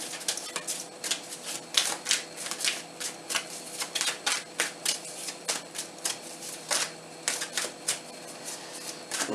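Tarot cards are shuffled and flipped in a quick series of close, crisp riffling and slapping bursts, fairly quiet and without talk.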